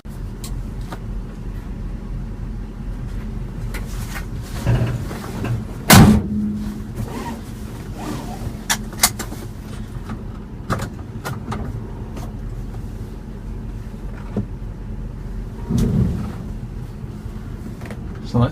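An old International Harvester truck with a Hemi engine rumbles low and steady as it sets off for a drive, with occasional clunks and thumps, while someone talks over it.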